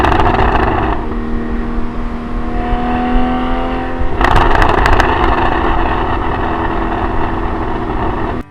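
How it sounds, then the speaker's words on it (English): A Porsche Boxster with sport exhaust downshifts on a forested Adirondack road: a loud, close engine drone gives way to a rapid burst of crackling pops and burbles. "you can hear all of the burbles and exhaust cracks bouncing off of the trees of the Adirondack forest as I downshift"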